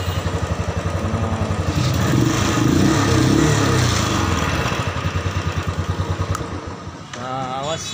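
A new motorcycle engine runs with a steady pulsing throb that swells slightly mid-way, recorded close by at night, while voices talk over it.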